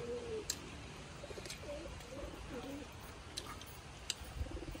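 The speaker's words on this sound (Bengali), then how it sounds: "পায়রা নামছে নাকি?" Pigeons landing nearby at a home give faint, low cooing phrases under a steady background hiss, with a few small clicks scattered through.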